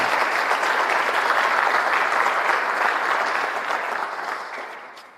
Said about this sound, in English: Can we give all our scholars a round of applause, please?